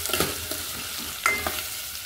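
Cumin and mustard seeds fry in oil in a pot on a stove, giving a steady sizzling hiss with a few soft pops and a brief clatter of stirring.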